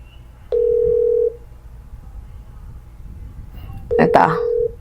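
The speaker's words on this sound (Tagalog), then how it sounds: "Ito, nagre-ring." A phone call tone plays twice, a sustained beep, a pause, then a second beep with a voice speaking over it.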